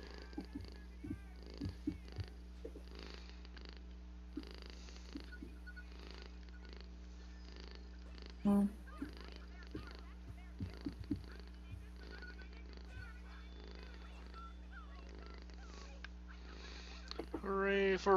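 A pet cat purrs close to the microphone, a low continuous rumble running steadily throughout, with scattered soft sniffs and clicks over it and people talking faintly.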